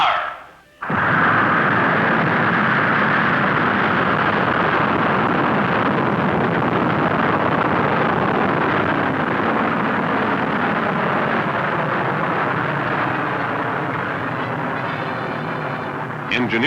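A missile launch fires with a sudden loud roar that holds as a continuous, broad rumbling blast for over fifteen seconds, fading only slightly toward the end.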